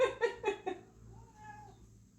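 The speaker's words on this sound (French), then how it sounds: "j'ai mon chat qui demande à rentrer, qui tape à la porte" A house cat asking to be let in gives three quick, close meows in a row, then a softer, drawn-out plaintive cry that tapers off.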